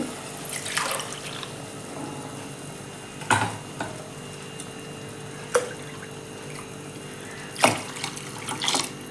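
Milk and water pour steadily into a pot for coconut milk rice in a continuous stream, with a few brief clinks and knocks over the flow.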